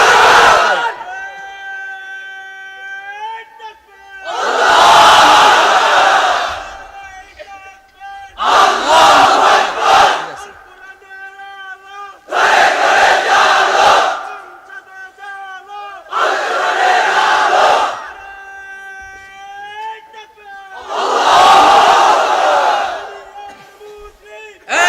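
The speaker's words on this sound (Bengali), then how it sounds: "এবার অবিবাহিতরা দাও লিল্লাহি তাকবীর" At a large religious sermon gathering, a leader's amplified call alternates with a massive crowd roaring the chant Lillahi Takbir. Six or so thunderous group shouts swell and fade in a regular call-and-response rhythm.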